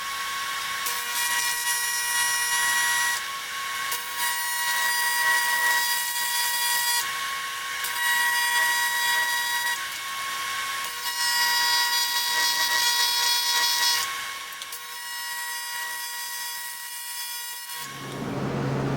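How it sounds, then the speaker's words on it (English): A welder running on a crankcase part, a steady bright buzzing hiss with a faint tonal hum that wavers in intensity over about eighteen seconds, then cuts off into a lower hum at the end. "Let's fire up the welder and see what happens."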